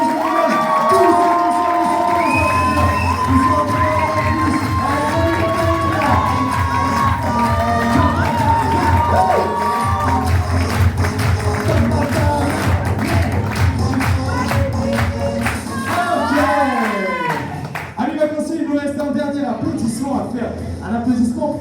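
An indoor evening audience at a ball cheers, whoops and applauds for the staff, a loud sustained crowd roar with children shouting and voices mixed in throughout.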